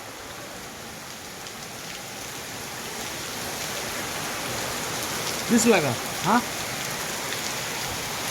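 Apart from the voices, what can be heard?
heavy rain pouring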